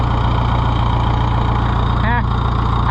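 A farm tractor's engine idles steadily in a loud, close, even low chug with a regular pulsing rhythm, while a brief voice cuts in briefly over it.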